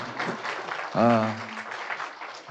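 Audience applause closes a university anniversary global forum session in a hall, a steady wash of clapping with a voice speaking briefly over it.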